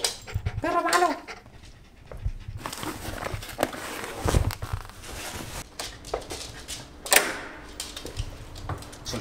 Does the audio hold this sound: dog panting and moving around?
yes